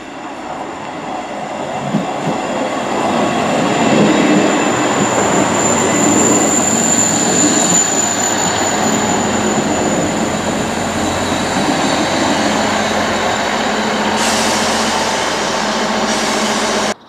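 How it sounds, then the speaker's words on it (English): A train rumbles and rattles steadily past close by on a South Western Main Line stretch near Totton and Romsey, its wheels squealing faintly now and then, with no voices. "I never saw a class 159 diesel multiple unit on the Salisbury to Romsey shuttles before."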